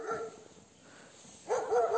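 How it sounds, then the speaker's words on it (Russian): A neighbour's dog barks in snowy winter countryside, a short bark at the start, a quiet gap, then a louder burst of barking, fairly close and alone. "Собака соседская неравнодушная переживает."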